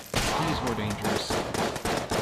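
Rapid machine gun fire rattles in the video game Enter The Gungeon, loud dense bursts of shots and impacts packed into a couple of seconds, with faint voice-like sound mixed in.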